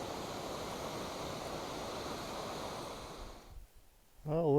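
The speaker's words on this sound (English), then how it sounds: "Nice view of the waterfall that I was looking at." Waterfall in a steep canyon, a steady broadband rush of falling water that holds constant for several seconds, then drops away to near silence before a brief burst of another sound at the end.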